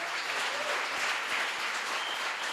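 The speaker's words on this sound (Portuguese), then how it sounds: "eu queria que a igreja aplaudisse ao Ministério de Família por todo o movimento" Church congregation at a Sunday night family service applauding the family ministry, steady dense clapping filling the room with little else heard.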